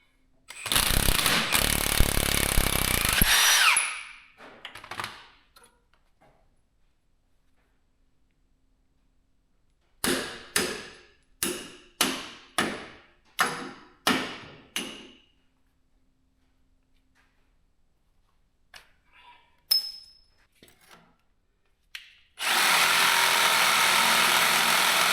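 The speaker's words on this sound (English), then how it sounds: "Let's get a wrench on that." A wrench works on the suspension of an EzGo TXT golf cart: a loud powered whirring burst opens, then a quick run of sharp ratcheting clicks, and another steady mechanical whir at the end, with no talking.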